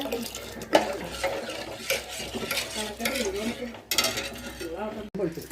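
A cumin mixture stirred in a pot, the spoon scraping and clinking against the metal in an uneven rhythm over a faint sizzle, close and moderately loud.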